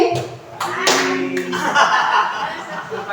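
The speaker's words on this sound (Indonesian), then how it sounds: "Kita tepuk tangan dulu Bapak Ibu." Meeting attendees clap their hands in a short burst mixed with chuckles and laughter, close and fairly loud, with voices over the top.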